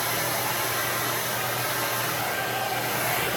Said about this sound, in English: Take that blow dryer and just go down the top a little bit.